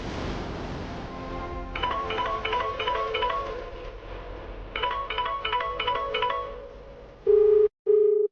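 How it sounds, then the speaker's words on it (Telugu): A phone ringtone plays in two repeated bursts of a rapid warbling melody, then switches to steady beeping tones, loud and close. "రింగ్ అవుతుంది"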